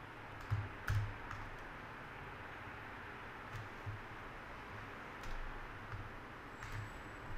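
A few scattered, faint keystrokes on a computer keyboard tap out a prompt, sparse and quiet over a steady background hiss.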